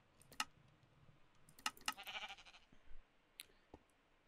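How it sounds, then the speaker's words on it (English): A sheep in the Minecraft video game bleats quietly amid soft game clicks and small effects, a few brief faint calls over a low, steady background. "we got a sheep friend."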